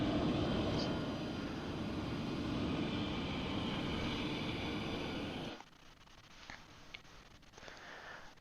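A Cessna Citation Longitude jet engine in Microsoft Flight Simulator gives a steady, dense broadband roar. About two-thirds of the way through it drops abruptly to a much quieter hiss with faint ticks.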